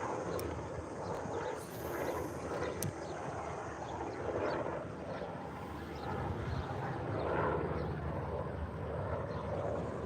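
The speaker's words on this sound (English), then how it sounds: "Airplane flying over, making all sorts of noise." A small plane or helicopter passes over a lake near a small airport, a steady broad engine drone holding at moderate loudness throughout with no voices.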